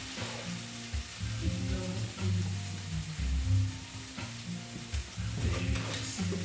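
Shawarma meat sizzles and fries steadily on a hot griddle, a close, continuous crackle with bursts of louder spitting as pieces are stirred and turned.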